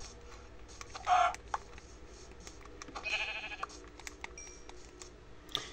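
Sheep in a video game bleat in short, quiet bursts, with one brief bleat early and a longer, louder one midway, over a low ambient game soundscape with scattered clicks.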